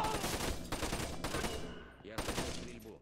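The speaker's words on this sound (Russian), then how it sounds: "Я слышу стрельбу." Bursts of automatic gunfire in the stealth shooter game Splinter Cell: Conviction, loud rapid volleys that break off briefly and resume, with no talk over them.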